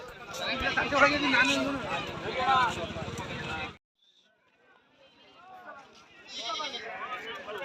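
Sheep bleat close by amid busy market chatter at the Bhadravati sheep market, then a brief quiet before more scattered voices and bleats return.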